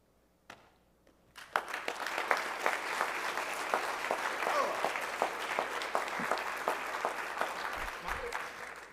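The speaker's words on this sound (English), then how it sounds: "please join me in another round of applause for Second Lieutenant Joseph Dylan Mooney" Audience applause at an ROTC commissioning ceremony for a newly commissioned second lieutenant. After a near-silent start and a brief pause, steady sustained clapping from a large seated crowd swells in around 1.5 seconds and continues with distinct sharp claps throughout.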